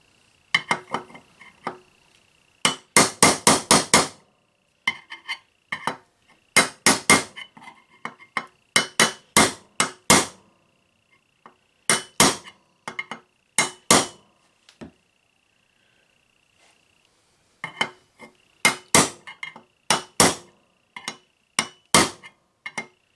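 Sharp metallic hammer strikes on a Melling M155 oil pump part during installation in a Chevy 5.7L V8, close and ringing, in quick clusters of blows separated by pauses, with no talking.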